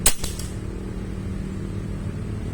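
A single sharp crack of a Hatsan BullBoss .22 air rifle shot fitted with a Huma regulator right at the start, quickly fading into a low steady background hum.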